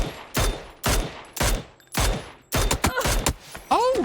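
Rapid gunshots ring out in PUBG, several sharp close cracks spaced about half a second apart, then a denser burst of fire ending in a ricochet-like whine.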